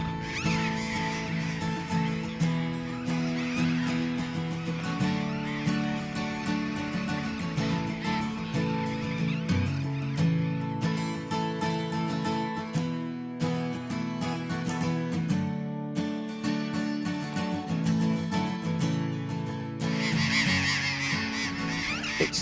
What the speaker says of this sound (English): the parrots are starting to appear